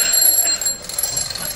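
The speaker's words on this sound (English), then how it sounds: "What's the matter with your bloody alarm?" A bedside alarm clock rings with a continuous high-pitched metallic jangle, fairly loud and steady throughout, with no talk over it.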